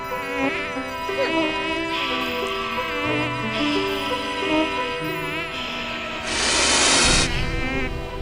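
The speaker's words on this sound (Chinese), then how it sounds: "蚊子没赶走" A mosquito buzzes with a thin, high whine that wavers in pitch over quiet background music, and a louder burst of noise comes near the end.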